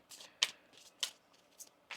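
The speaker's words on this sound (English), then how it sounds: "One more shuffle." Soft, close riffling and slapping of tarot cards being shuffled, several quick bursts in an uneven rhythm in a quiet room.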